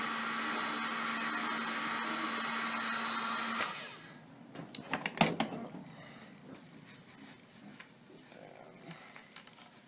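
A heat gun warms a length of PVC pipe to soften it, giving a steady, loud blowing whir for about three and a half seconds before shutting off. Faint knocks and handling noises follow in the quiet room.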